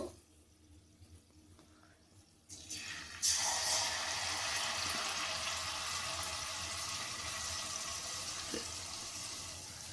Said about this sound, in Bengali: আমি একটা একটা করে ভেজে নেব।